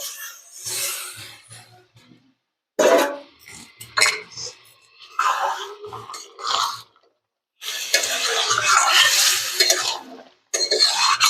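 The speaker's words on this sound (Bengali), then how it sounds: "মাছটা দিয়ে দিলাম, এখন একটু নাড়ে নিয়ে" Dry fish and Malabar spinach flowers stirred in a pan, bursts of scraping and rubbing strokes separated by short pauses, close up with no talking.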